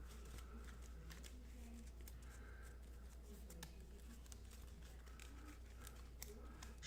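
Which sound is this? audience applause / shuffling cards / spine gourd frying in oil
shuffling cards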